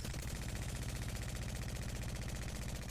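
Sustained, rapid automatic fire from a turbocharged gun in Apex Legends, a dense unbroken rattle of shots at an even fast rhythm, fairly quiet and without speech.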